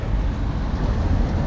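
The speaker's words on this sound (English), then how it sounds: "it is pouring" Heavy rain pouring outdoors in a Kiev street, a steady dense roar of falling water with wind-like rumble, loud and continuous close to the microphone.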